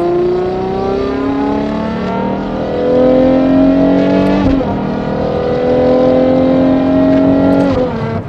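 Ferrari Purosangue V12 with a Novitec exhaust while driving, its loud engine note rising and falling through revs and gear changes, close and continuous with no talk.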